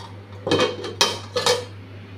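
A metal pot lid set down on a pan of egg and potato curry, a few close clanks and rattles in quick succession as it settles, with no talking.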